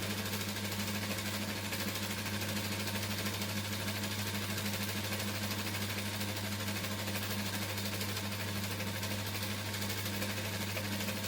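A sewing machine runs steadily while stitching a circle skirt seam, its continuous even hum and rapid needle chatter holding at a constant moderate speed, close up with no pauses.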